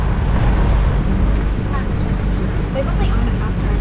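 A motorboat engine drones low and steady throughout as the boat runs on the water near Jacobs Well, with wind buffeting the microphone and a faint voice occasionally underneath.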